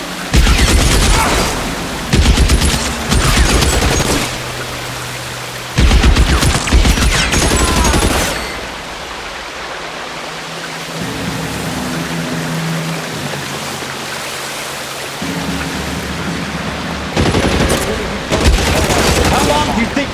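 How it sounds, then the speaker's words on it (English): Bursts of rapid gunfire crackle loudly in the crime video game L.A. Noire, alternating with quieter stretches of low ambient tones and a short voice, then another sustained volley near the end. "The guns!"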